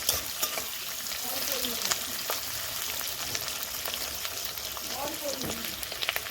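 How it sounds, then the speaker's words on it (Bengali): Chilli chicken fries on a high flame with a loud, continuous sizzle and crackle, stirred now and then, while a voice speaks faintly underneath. "এইবারে কিন্তু হাই ফ্লেমে ভাজতে হবে, না হলে কিন্তু এগুলো সিদ্ধ হয়ে যাবে।"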